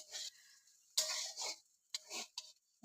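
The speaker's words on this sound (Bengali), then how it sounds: "আলু ফুলকপি কাঁচা লঙ্কা দিয়ে ভাজা হচ্ছে" Potato, cauliflower and green chilli frying in a pan and being stirred, heard as quiet, intermittent scraping stirs in short bursts over a faint sizzle.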